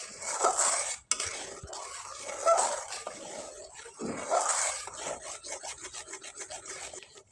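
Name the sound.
stirring chickpea lentil paste in a pan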